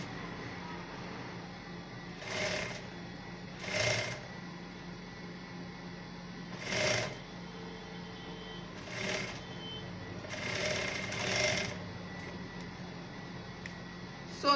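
A sewing machine stitches a scissors-neck basque corset blouse in several short, faint runs separated by pauses, with a low steady hum underneath.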